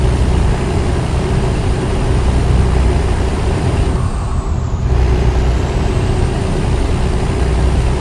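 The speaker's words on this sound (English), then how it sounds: "when I roll down my windows, You can hear the engine crystal clearly doing its thing." A heavy truck engine in American Truck Simulator rumbles steadily and loudly throughout, heard with windows down, with a brief hiss like an air brake midway and no voices.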